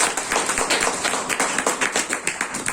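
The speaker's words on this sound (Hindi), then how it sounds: "एक बार जोरदार तालियां होनी चाहिए हमारे महागुरु सरवन सर के लिए" Steady applause from a seminar audience at a wellness business training centre, with dense, fairly close clapping that runs the whole time, with no voices over it.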